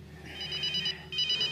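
A mobile phone with a cracked display rings in a German radio crime drama, giving a steady electronic ring in two repeated bursts with a short gap between them, moderately loud with no talk over it.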